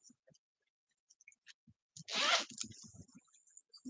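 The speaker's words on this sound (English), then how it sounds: "There's a recessed zipper at the top." A recessed zipper along the top of a bag is pulled open in one quick, close rasping stroke, framed by faint handling taps before and after.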